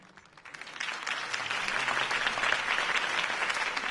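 A crowd at a Harvey Dent campaign rally applauds after the speech, clapping swelling quickly from quiet into a steady, fairly distant roar that holds to the end.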